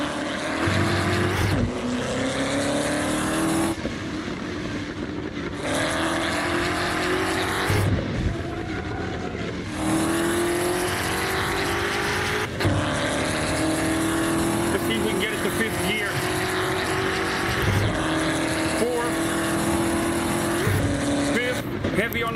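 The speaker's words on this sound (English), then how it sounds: "Back on that gas pedal again. Once again, we are driving the Ford GT." A Ford GT races in Assetto Corsa, its engine screaming through repeated rising revs and abrupt gear-change cuts over a long stretch, with a person talking over the driving.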